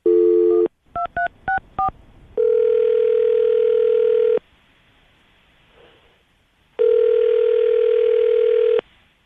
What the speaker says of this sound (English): I'm going to give her a call right now